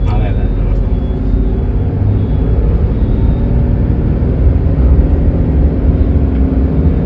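A manual car pulling away slowly after the clutch is released in traffic, a low, steady engine rumble heard from inside the cabin, with a person talking over it throughout.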